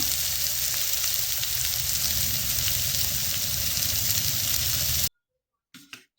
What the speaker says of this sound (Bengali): এবার এগুলো ভাজা করে নেব ছড়িয়ে দিয়েছি উস্তে ভাজাটা